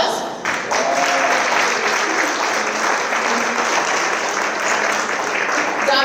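Sustained applause from an audience at a panel discussion on power and leadership, a dense, steady wash of clapping holding at full strength for several seconds.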